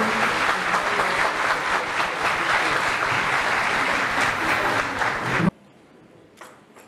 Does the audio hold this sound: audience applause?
yes